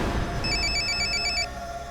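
A telephone rings in a tense indoor scene, a single trilling electronic ring burst of rapid repeating tones lasting about a second over low background hum.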